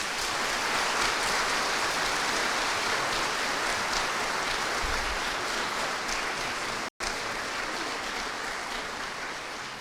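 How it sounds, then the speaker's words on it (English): Dense, steady applause from an audience at a military graduation ceremony for soldiers, a continuous wash of clapping lasting throughout with a brief cut near the end. "Please give these exceptional soldiers a round of applause."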